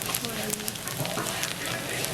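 Dried anchovies frying in butter in a pan, a dense, steady crackling sizzle close by, with a voice talking over it.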